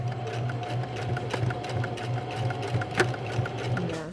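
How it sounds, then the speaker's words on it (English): A sewing machine back-stitches around a felt superhero mask, its needle hammering in a steady rapid rhythm with a constant motor hum, close and alone. "this is where I'm going to back stitch right on top of where I began"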